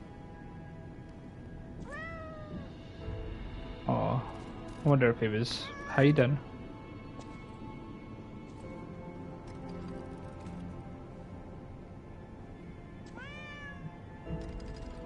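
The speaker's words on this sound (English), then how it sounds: "Oh, there's the cat." A cat in the video game Lies of P meows a few times, soft and mid-distance, with a louder rustling burst in between and someone talking over parts of it.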